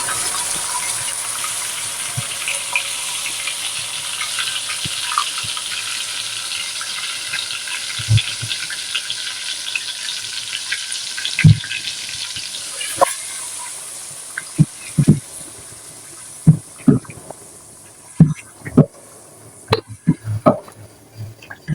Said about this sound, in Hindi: अब इसको हम बहुत अच्छा सा भून लेंगे